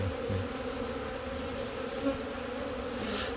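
Honeybees buzzing steadily at an open beehive during a spring hive transfer, a continuous close hum with no talk.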